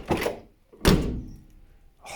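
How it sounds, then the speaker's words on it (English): Two solid door thunks from a Peugeot 204 car door closing, one fitted with a new door seal and one without, each a sharp close slam with a short decay, separated by a brief pause. "listen to the difference with a new door seal and one without"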